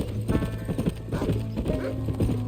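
Horse hooves clip-clop at a walk in the Red Dead Redemption video game, a steady rhythmic clopping with a brief snort or whinny mixed in, close by.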